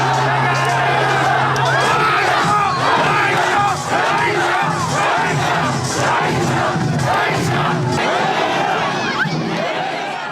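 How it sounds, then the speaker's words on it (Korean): Tens of thousands of people roar and shout together at a traditional Korean tug-of-war festival, a loud, continuous mass of cheering voices that swells and holds close for the whole ten seconds. "신호와 함께 수만 명의 함성이 울려 퍼지고 사람들은 온 힘을 다해 줄을 당긴다."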